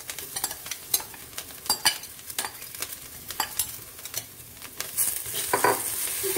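Microgreens mixed with turmeric powder and salt are stirred in a pan, with repeated close scraping strokes and clinks in an uneven rhythm over a light sizzle.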